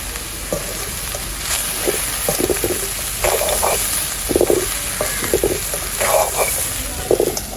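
Chicken frying in a pan for Jaffna-style chicken rice gives a steady close sizzle, broken by repeated bursts of stirring and scraping.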